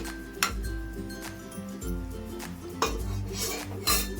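A spoon stirring fish curry in a metal pot, clinking and scraping against the sides in several bursts over a low bubbling simmer, close up with no voices.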